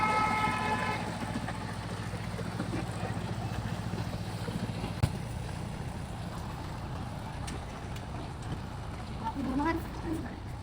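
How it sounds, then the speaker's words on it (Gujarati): A small garden ride train rumbles past in a park with a steady low rolling drone throughout, while people talk nearby. "देखो हाय, ट्रेन है ट्रेन."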